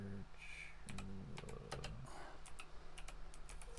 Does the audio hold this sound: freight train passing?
no